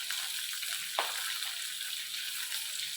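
Onions and curry leaves frying in a pan, a steady soft sizzle with a brief stir or clatter near the start, continuous and close for the whole stretch, no voices.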